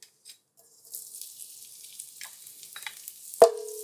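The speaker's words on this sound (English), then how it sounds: "we're going to saute for a few seconds" Garlic hitting hot oil in a pot: near-silence breaks into a thin crackling sizzle that builds steadily, with a few small pops and a sharp clank of a utensil near the end, close and moderately quiet.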